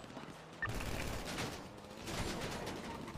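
Gunfire crackles through a video game shootout, dense overlapping shots and bursts in a steady barrage at moderate loudness, with no clear voices.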